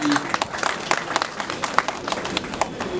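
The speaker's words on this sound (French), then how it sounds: "Je vous prie donc de bien vouloir vous applaudir pour votre courage, votre patriotisme et votre engagement pour la cause du pays." An audience at a ministry ceremony applauding, a dense patter of many hands clapping steadily for a few seconds, close and fairly loud, with some murmur underneath.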